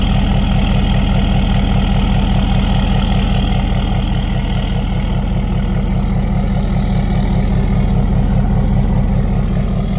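A 2013 Ford F-250 work truck, deleted and tuned, idles through a 4-inch straight-pipe exhaust with a 5-inch MBRP tip, giving a loud, steady, deep rumble with a fast pulsing throb close by, with no talk.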